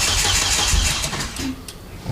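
Loud close cranking of an Audi A3 race car engine that catches right after an injector refit, the engine rumbling briefly before the sound drops toward a quieter idle.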